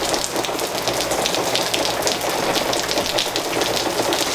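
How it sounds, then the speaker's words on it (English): Rain falls steadily as a loud, continuous broadband hiss of drops pattering on surfaces near a garage, with no voices. "I could complain about the rain"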